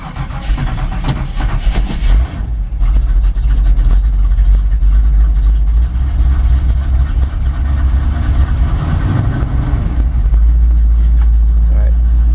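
A carbureted Chevy K10 engine idles on a cold start, a steady low rumble running loud and close throughout with a slight unevenness, while a person talks over it.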